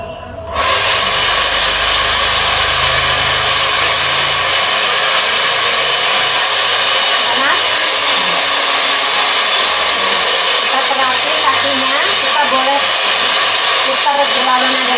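Itera Care home therapy device running at high speed, giving a loud, steady broadband hiss and whir like a hair dryer that starts abruptly and holds constant, close by with no talk.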